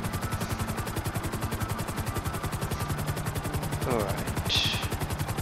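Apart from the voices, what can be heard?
helicopter flying in video game Grand Theft Auto V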